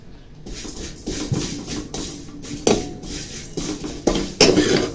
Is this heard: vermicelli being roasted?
yes